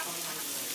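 Shrimp, garlic and shallots sizzle steadily in a hot pan, a dense, continuous frying hiss with no pauses and no voices.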